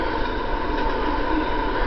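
A Big Boy steam locomotive with its train in the Trainz railway simulator, heard as a continuous loud rolling rumble of rail cars and wheels with a steady hum, no voices.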